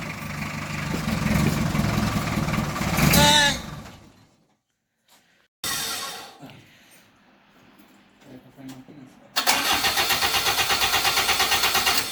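A car's engine cranks and catches on the first try, rumbling loudly, then cuts out to near silence before restarting and running steadily with a rhythmic pulsing idle; no talk over it.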